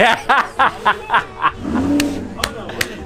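A sports car engine roars past with a rising rev at a party, mixed with bursts of laughter and chatter from people nearby.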